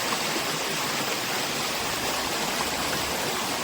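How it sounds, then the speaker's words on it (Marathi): Steady rushing water from a clear stream in the Konkan fills the whole stretch, a continuous broadband wash flowing nearby, with no voices or breaks. "स्वच्छ असं पाणी या ठिकाणी ओढ्याला हे पाहू शकता"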